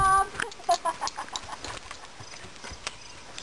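A horse trots close by, its hooves clip-clopping in a quick, fairly faint rhythm. Soft voices and distant birds sit in the background.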